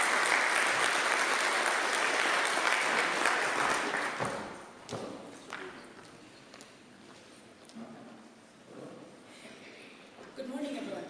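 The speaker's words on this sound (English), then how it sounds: "Please give her a big round of applause" A conference audience applauds as the RFIN chair comes to the front. Loud, full clapping fills the first few seconds, then drops away to scattered hand claps and room noise as talking begins.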